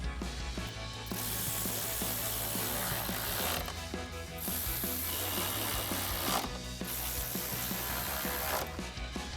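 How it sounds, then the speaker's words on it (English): Ratchet and socket tightening grille bolts on a Ford F-150, with rapid close ratcheting clicks in long runs broken by brief pauses over a dense mechanical background. "grab our ratchet and socket and tighten them down"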